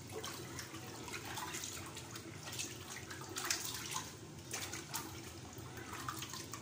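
Water running and splashing while food is rinsed to get rid of sand, a steady close wash of flowing liquid with small splashes.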